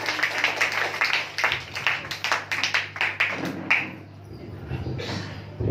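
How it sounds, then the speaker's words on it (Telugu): A church congregation at a Christmas service claps for God, giving a dense patter of many hands for several seconds before it thins out, with a steady low hum underneath. "గట్టిగా దేవుడికి చప్పట్లు కొడదాం"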